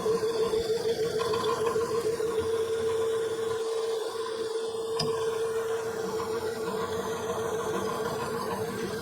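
A water circulation pump runs dry after refilling, giving a steady, close mechanical hum with a constant tonal whine and a faint rattling texture, unbroken for the whole stretch.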